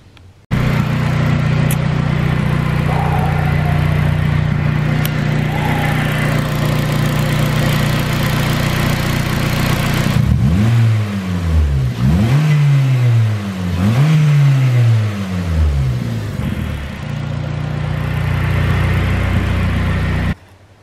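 A car engine idles steadily, then revs up and down three times in quick succession before settling back to a loud idle.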